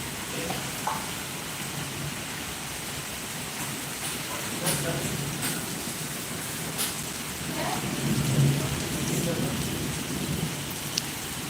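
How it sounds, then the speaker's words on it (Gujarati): Steady rain patters throughout while low thunder rumbles now and then, with faint voices occasionally underneath. "અમારે જો પવન છે અને વરસાદ છે"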